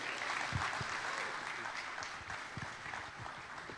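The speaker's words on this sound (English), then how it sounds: "Can we have another round of applause for Brendan" A crowd at a launch event applauds a guest, a moderate wash of clapping with scattered distinct claps, fairly soft and distant.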